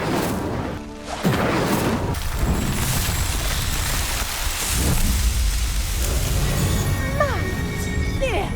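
Incendio fire spell igniting pyres in Hogwarts Legacy, with a crash as the flames catch, then a loud, continuous roaring rush of fire and a voice briefly heard near the end.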